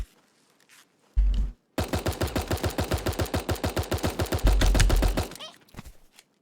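A quiet pistol in Super Animal Royale fires a long steady volley of rapid shots, loud and close, framed by a couple of heavy thuds and brief quiet gaps.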